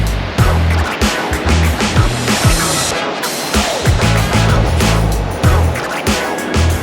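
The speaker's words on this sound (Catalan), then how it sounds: "El mar sembla calmat, però tot i que no siguin unes onades molt grans, es veu una corrent molt heavy." Ocean waves roll in at a beach on New Zealand's west coast, loud and close. The surf roars steadily with repeated low thumps and washes, and no voice is heard over it.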